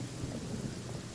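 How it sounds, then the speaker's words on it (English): Rain with low rolling thunder in the video game Genshin Impact, a steady wash of rainfall over a deep rumbling bed, continuous and fairly even throughout with no talk. "It's raining."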